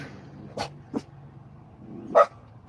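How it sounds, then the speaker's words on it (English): Dogs give a few scattered barks and yips, two quick softer ones and then a louder bark, over a low background hum. "Who you barking at, dogs?"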